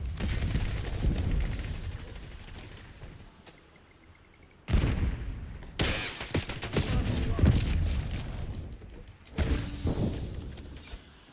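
Heavy explosions and rapid gunfire from a Call of Duty Black Ops 6 multiplayer match, loud bursts and booms repeating through the stretch, with a quieter lull in the middle and sharp blasts returning after.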